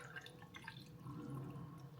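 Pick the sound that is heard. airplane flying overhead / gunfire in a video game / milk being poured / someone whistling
milk being poured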